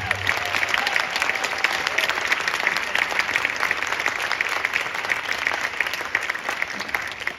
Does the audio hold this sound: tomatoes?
no